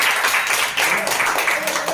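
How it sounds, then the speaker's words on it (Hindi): A group of children in a Hindi lesson applauds, brief dense clapping that stays steady, with a voice faintly underneath. "हाँ और अपने ताली बजाओ सब।"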